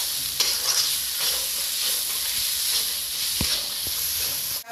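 Ground spices including Kashmiri red chilli powder, dried fenugreek leaves and turmeric fry and get stirred together for a spicy Bihari-style mutton curry, a continuous close sizzling hiss broken by a few scraping strokes of the spoon.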